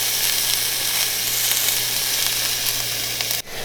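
Vegetables and garlic cloves in their skins, with onion, roast and char in a hot pan, giving a steady, loud, close sizzle that runs unbroken and cuts off sharply near the end.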